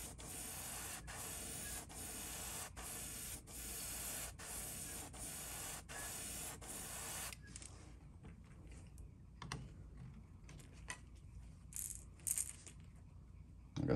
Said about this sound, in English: I'll put a little bit of purple on that top and let it dry. Dry it with the air of my gun.